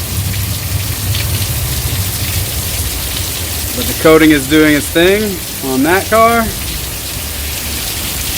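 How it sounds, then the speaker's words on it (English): Steady rain falls outside right after a car has been cleaned and coated, a loud, constant hiss of drops on surfaces throughout, with someone speaking briefly partway through. "Just got done with the car and cleaning up, and of course it rains."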